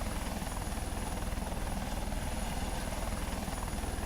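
A Eurocopter Tiger helicopter in Second Life: the rotor chops steadily and loudly throughout, with a constant engine whine layered over the rapid thudding beat.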